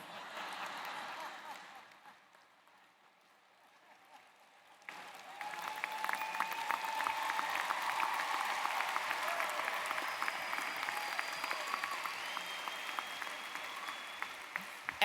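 Brief clapping fades into a quiet pause, then a graduation ceremony crowd at UCF bursts into sustained, dense applause that carries on steadily.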